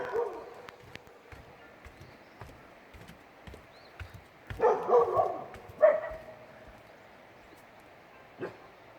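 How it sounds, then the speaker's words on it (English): A few sharp dog barks in quick succession, moderately close, over outdoor background noise with a soft voice nearby. "What are you barking at?"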